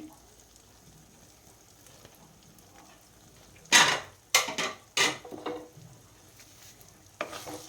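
Jaggery being stirred in a pan as it melts for a sweet and sour jujube pickle: a few scraping, sizzling stirs in quick bursts, fairly close, separated by quiet stretches.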